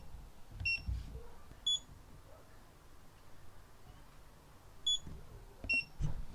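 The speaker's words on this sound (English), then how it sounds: "a constant beep that beeps about every 3 seconds to let you know that the inverter is on and alive" Electronic power inverter beeping to show it is switched on, giving short, bright, evenly spaced chirps a few seconds apart, moderately near over a low background rumble.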